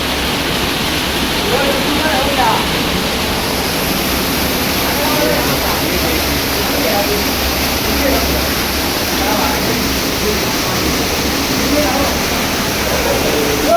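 The Guchu Pani waterfall near Dehradun roars with a steady, dense rush of falling water that fills the whole scene. Voices talk faintly beneath the constant wash.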